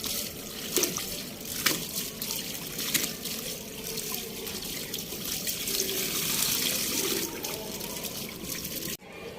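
A jacket washed by hand in water in a village home: continuous splashing and trickling water with occasional sloshing bursts, close and steady throughout, with no talk.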